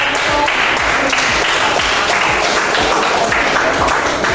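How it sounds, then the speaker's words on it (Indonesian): Classroom applause for a student group, a dense continuous burst of many hands clapping at once that stays loud and steady throughout. "kita beri aplaus untuk"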